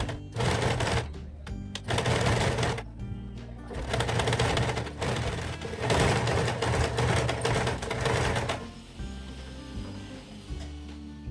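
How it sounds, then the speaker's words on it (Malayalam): A sewing machine stitches two pieces of old cloth together along the edge for a homemade doormat, running in loud bursts separated by short pauses, then slowing to quieter, intermittent whirring near the end. "ഇനി നമുക്ക് ഈ രണ്ട് തുണിയും കൂടെ ചേർത്ത് വെച്ചിട്ട് ഈ ഒരു ഷേപ്പിൽ അരികിലൂടെ ഒന്ന് സ്റ്റിച്ച് ചെയ്തെടുക്കണം"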